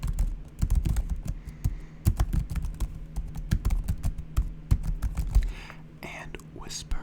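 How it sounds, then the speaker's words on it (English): A computer keyboard is typed on close up during a coding session: rapid, irregular clacks and taps in bursts, with soft whispering underneath. "we're just gonna do a relaxing little coding session with lots of keyboard sounds."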